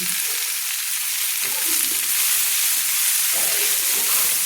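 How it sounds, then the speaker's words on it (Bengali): Potatoes and onion greens fry loudly in oil in a wok with tomato, onion and tempering spices, a steady close hiss and sizzle lasting throughout while the vegetables are stirred, no talk. "সেগুলো কিন্তু আমি কড়াইতে দিয়ে দিলাম। দিয়ে আমি ভালো করে কিন্তু নেড়ে নিচ্ছি।"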